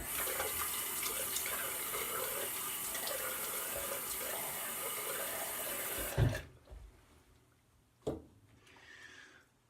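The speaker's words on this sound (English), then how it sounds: "Quickly wet the face" A bathroom tap runs in a steady hissing stream for about six seconds, then cuts off, followed by a couple of faint splashes and drips as the face is wetted close by.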